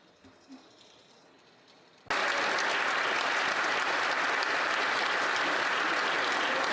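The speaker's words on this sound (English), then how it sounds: "Please clap and support and show love for Olivier." Loud, sustained applause fills the House of Commons chamber, bursting in suddenly after a quiet stretch of room tone and continuing steadily to the end.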